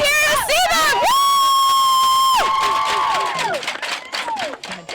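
A crowd at a holiday parade whoops and cheers loudly, with sustained high shouts and excited voices rising and then trailing off.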